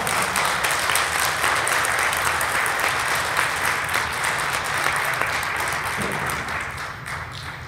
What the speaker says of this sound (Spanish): Dale un aplauso al Señor bien fuerte.